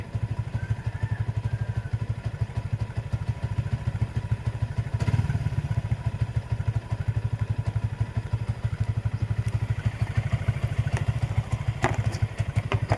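A motorcycle engine runs close by with a steady, low, throbbing idle that lasts throughout, a heavier thump near the middle and light clattering toward the end.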